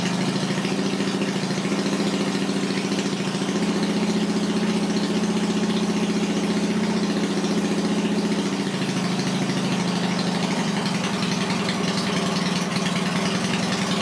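A Yamaha XS650 motorcycle engine idles steadily at about 1100 rpm after a cold start with the choke off, a continuous even thrum held at close range with no one speaking.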